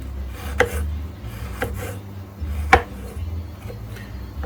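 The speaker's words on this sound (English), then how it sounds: "I'm just chopping it into little flakes" A knife chops a hard block of creamed coconut into flakes on a board, giving a few sharp, separate thuds at irregular intervals over a low background hum, close and moderately loud.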